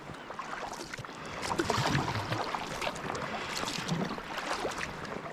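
A kayak paddle dips and pulls through water near Llandudno in Wales, giving soft, irregular splashes and swishes with a steady watery wash underneath and no talking.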